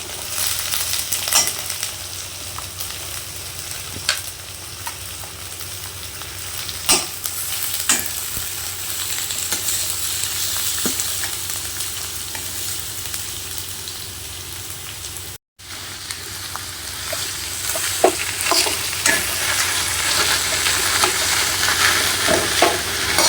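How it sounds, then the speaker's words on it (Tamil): Onions sauté in a pan for poori masala, a steady close sizzle and crackle with occasional stirring scrapes that runs for a long stretch, briefly cut by a short gap, with no speech. "அதில் வெங்காயம் போட்டு கொஞ்சம் வதங்கட்டும்"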